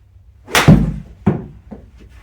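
A golf club strikes a ball in a one-armed swing, a sharp close thwack followed by a few fainter knocks and clatters in a quiet setting.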